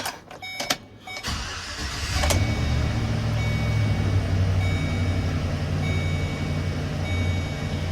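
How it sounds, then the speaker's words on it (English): A few clicks and a short whir, then the engine of a 2014 Chevrolet Express / GMC Savana 2500/3500 van cranks and catches, settling into a steady idle hum. "let's start the car"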